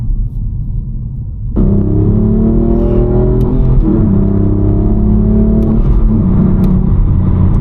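A 530 hp BMW M4 F82 with a six-speed manual accelerating hard. After a lower rumble, the engine revs up into a loud, sustained, rising drone heard from inside the car, with no talking.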